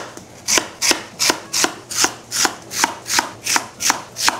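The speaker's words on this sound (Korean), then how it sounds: "이제 연근을 먹기 좋은 크기로 썰어 줄 텐데요" A knife cuts lotus root on a board in about a dozen evenly spaced, crisp chops with a steady rhythm, close and clear, with no talking.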